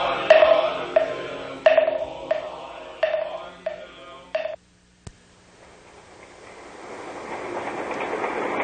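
Aboard a rail carriage, a run of sharp electronic tone beeps gives way to a moment of near silence and a click, then the carriage's broad rumble and clatter builds steadily.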